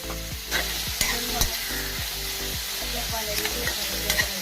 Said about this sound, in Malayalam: നമുക്ക് സവാള വഴറ്റണം അതിന് അല്പം ഉപ്പിടാം